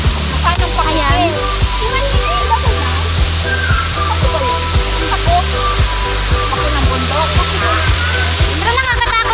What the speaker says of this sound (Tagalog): kapal daw yung tubig na bumabagsak dyan